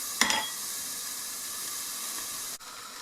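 Teriyaki salmon simmering under a lid in a pan, heard as a brief sharp hiss at the start followed by a steady, close, even steam hiss.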